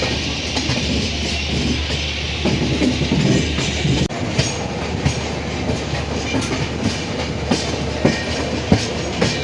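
A passenger train rolls along the tracks past the Lalaguda locomotive maintenance area on a run from Vijayawada toward Araku, heard from inside with loud, steady rumble and rhythmic clickety-clack wheel beats, no one talking.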